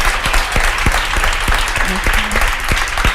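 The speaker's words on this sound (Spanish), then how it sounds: "Les pido un aplauso para Visila" Loud audience applause at a Spanish-language talk event, continuous and dense, with distinct heavier claps standing out and a brief voice in the middle.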